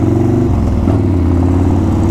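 A custom Yamaha Warrior 1700 motorcycle idles loudly through its exhaust, a deep, even, pulsing rumble that runs steadily from close range without voices.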